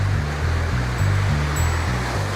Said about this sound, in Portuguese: nós estamos agora diante da cachoeira considerada a mãe das cachoeiras pelos